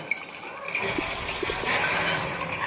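Water sloshes and swirls as it is mixed in a pressure cooker for khichdi, a continuous close liquid churning with light trickling.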